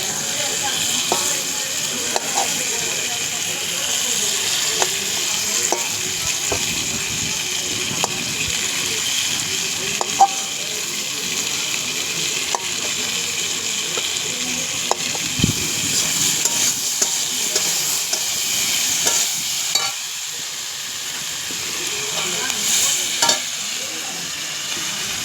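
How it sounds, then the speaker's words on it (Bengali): Chopped tomatoes and green chillies frying in a pan, a continuous bright sizzle with occasional stirring clicks and knocks, close and steady throughout. "ভালো করে এরকম ভাজতে থাকো, ততক্ষণের মধ্যে টমাটোগুলো গলে যাবে।"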